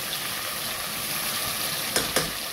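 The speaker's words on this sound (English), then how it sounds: "Now adding the ground spices." Ground spices for a prawn temperado fry in a pan with a continuous close sizzle, broken near the end by two short scraping stirs.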